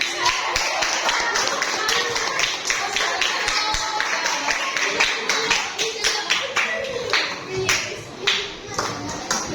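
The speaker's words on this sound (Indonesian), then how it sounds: "Oke, tepuk tangan" Classroom children clap together after a group presentation, a dense run of sharp hand claps over nearly ten seconds, with voices chattering underneath.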